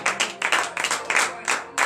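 Rhythmic hand clapping from a congregation acclaiming God at a morning prayer in Benin, steady bursts of claps at a moderate level with some voices mixed in.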